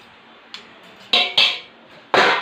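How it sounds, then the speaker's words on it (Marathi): Metal slotted spoons and a kadai on a stove clink and clatter in a few separate bursts, loud and close, with quiet gaps between them. "इथं शेगडीवर कढई ठेवली, त्याच्यात तेल टाकलं, हे 2 झारे घेतले."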